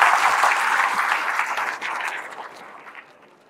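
An audience claps at an academy results event, a dense burst of applause that slowly thins and fades over a few seconds, with no voices on top.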